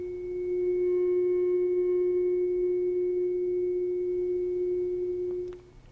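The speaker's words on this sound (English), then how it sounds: "And I went and got this tuning fork." A pure, steady ringing tone holds for about five seconds, fading slightly before a soft tap ends it; no talking.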